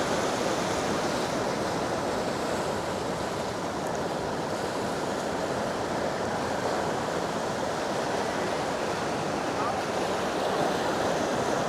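Ocean surf roars steadily and continuously on Levante Beach, Benidorm, after rain, a dense wash of breaking waves with wind noise mixed in.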